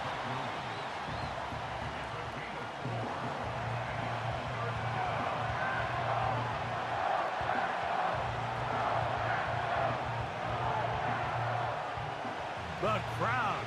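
A steady crowd roar rumbles from a stadium during a Madden 25 football game between the Steelers and Packers, a dense continuous wash of noise with murmured voices beneath it.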